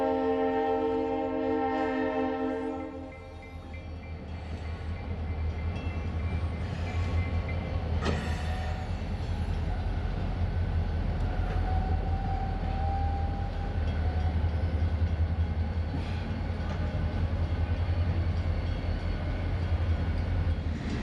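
An NECR freight train with rare engines and vintage paint passes a grade crossing in Willimantic, Connecticut: tonal ringing at the start, then a steady, loud, close rumble and rail clatter throughout.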